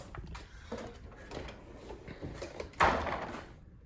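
A drawer slides open on a Husky 61-inch workbench tool box. Faint rattles and small clicks lead up to a single louder sliding clunk near the end, heard up close.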